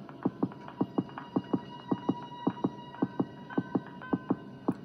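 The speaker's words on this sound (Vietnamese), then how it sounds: "Tiếng nhịp tim của đứa con kia rất là to." Loud, regular heartbeat thumps in a horror video game, paired double beats repeating steadily at a moderate pace over a low hum and faint tonal game music.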